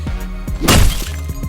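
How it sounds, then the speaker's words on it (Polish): Window glass shatters in the Hotline Miami video game, a single loud burst of breaking glass in the middle, with faint thumps before and after it. "Kurde, rozbiliśmy szybę."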